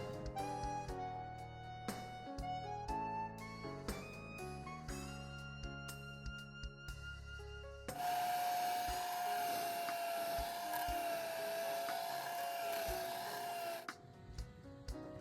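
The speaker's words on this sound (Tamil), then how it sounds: "ஒரு பவுலுக்குள்ளே நான் இந்த 300 கிராம் பட்டரை சேர்த்துட்டேன். அதோட 100 கிராம் சீனியையும் சேர்த்து நல்லா அடிச்சு எடுக்க போகிறேன்." Butter and sugar, 300 g and 100 g, are beaten in a bowl for an eggless cake. Music plays at first, then a loud, steady machine whir runs alone for about six seconds before cutting off.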